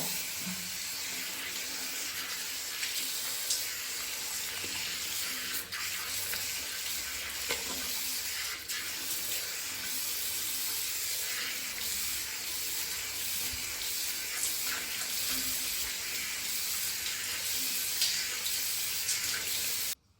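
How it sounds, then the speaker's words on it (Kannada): Water splashes into a kitchen sink to rinse it after scrubbing with a scrubber, a steady, close, hissing rush that runs unbroken for about twenty seconds with no talk. "ನಾವೀಗಳಿಗೆ ನೀರು ಹಾಕಿ ಕ್ಲೀನ್ ಮಾಡಿ ನೋಡುವ"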